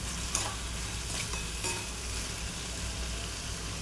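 Ridge gourd and tomato pieces, seasoned with salt and turmeric, stirred in a pan, with a steady soft sizzle and a few scraping strokes of the spoon throughout.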